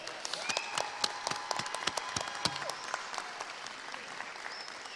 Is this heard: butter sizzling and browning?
no